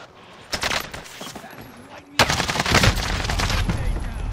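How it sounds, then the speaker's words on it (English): Gunfire crackles nearby in a landscaping work setting, a short burst of sharp shots followed by a louder, sustained barrage of rapid reports, with faint voices underneath. "What are these kids shooting, man?"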